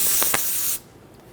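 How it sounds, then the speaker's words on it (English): Parts cleaner sprays onto a clean rag in a loud, steady aerosol hiss lasting under a second, with a couple of short bursts at the start. The spray cuts off sharply, leaving quiet shop air. "spray the rag,"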